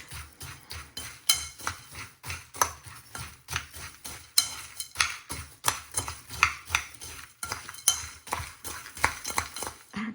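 A spoon stirring and scraping through a dry granola mix in a container, rhythmic clinks and rustles repeating steadily, close and fairly quiet with no talk.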